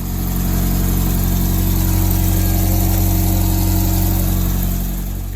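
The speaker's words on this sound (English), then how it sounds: "So now I just need to start it up and let it burp." A classic Mini engine, fresh from a coolant change and with a suspected exhaust leak, runs at a steady loud idle close by, holding an even throbbing drone throughout with no talking.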